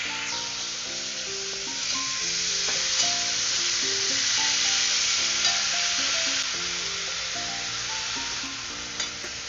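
Boiled banana flower mashed and stir-fried with spices in a pan for a chana dal mocha ghonto, a steady sizzle and scraping stir running throughout beneath melodic background music.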